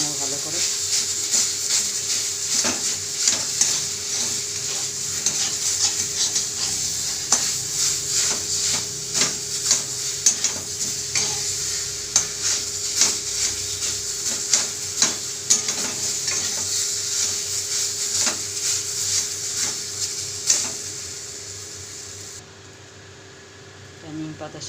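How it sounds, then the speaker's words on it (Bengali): Potatoes frying with neem leaves in a pan give a steady sizzle through most of the stretch, broken by repeated stirring and scraping clicks, and the sizzle drops away near the end. "নিম পাতার সঙ্গে আলুটা ভাজতে দিয়েছিলাম"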